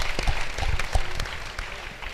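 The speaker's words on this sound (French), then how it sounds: "Applaudissements pour la gloire de Dieu." Congregation clapping in church during a French-language service, a steady patter of hands with a few louder claps standing out, moderately close and continuous for a couple of seconds.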